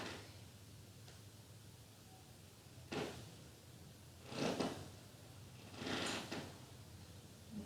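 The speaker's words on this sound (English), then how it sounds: "floor is extra creaky today" A creaky floor gives out several faint creaks and groans, three or four separate bursts spaced a second or two apart in a quiet room during a slow yoga flow.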